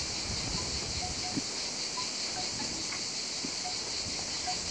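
Cicadas chirp in a field of lavender just coming into bloom, a steady dense buzzing drone that holds throughout with no talk, faint rustling and wind beneath.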